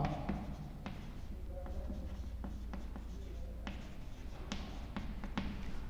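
Chalk taps and scratches on a classroom board as a teacher writes during a maths lesson, with sharp intermittent clicks and strokes over a low room hum, no talking.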